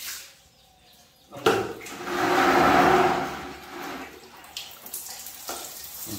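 Shower water runs while a two-month-old Doberman puppy is bathed, starting with a sudden hiss that swells into a steady spray and then eases off, close by, with a few thumps and splashes toward the end.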